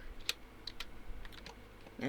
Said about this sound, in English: You are typing wrong, woman.